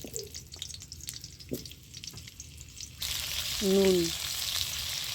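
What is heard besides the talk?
potatoes frying in white oil in a wok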